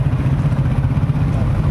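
Road traffic with motorcycle engines, a close, steady low idling rumble with a faint clatter and no breaks.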